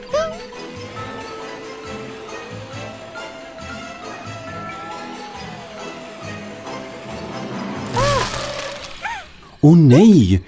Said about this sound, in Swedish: din skylt gick sönder